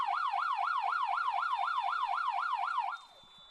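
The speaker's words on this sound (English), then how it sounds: "As the siren rings, that will be halftime here." A wailing halftime siren sounds at a women's college soccer match, its pitch rising and falling in a steady fast cycle for about three seconds before fading into faint crowd ambience.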